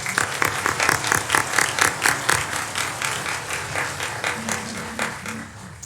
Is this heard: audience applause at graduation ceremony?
yes